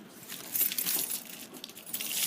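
Bunch of keys jangling close up, a bright continuous metallic clinking that swells and shifts as the keys are handled, with no talking.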